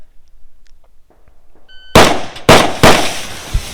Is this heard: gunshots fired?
yes